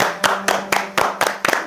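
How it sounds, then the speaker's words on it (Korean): Several sharp hand claps in quick irregular bursts, near and fairly loud, with a faint steady hum underneath. "박수라도 좀 쳐줘"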